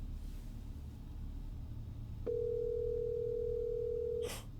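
A telephone call tone sounds as a single steady electronic tone lasting about two seconds, then cuts off, over low background noise.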